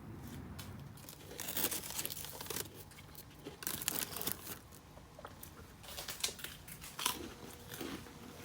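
Quiet crunching and biting of a snack during a break from welding a roll cage into a Datsun 280ZX, several crisp bites and chewing sounds close by, with no talking.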